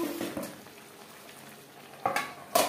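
Potato chicken curry stirred in a pan on the stove, quiet sizzling under a few scrapes of a spoon, with two sharper clanks of utensil on metal near the end.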